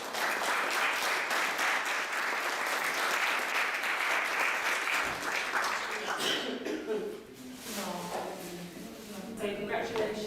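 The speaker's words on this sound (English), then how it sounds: "I want us to give Joy another big round of applause." Audience applause for an award recipient at a sustainable education and leadership award ceremony, sustained dense clapping for several seconds that thins out toward the end with voices murmuring underneath.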